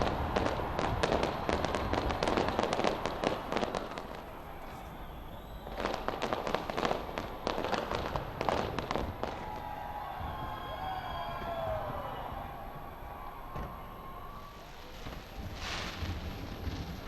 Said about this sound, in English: Fireworks were seen exploding from Auckland's Waitemata Harbour and Sky Tower.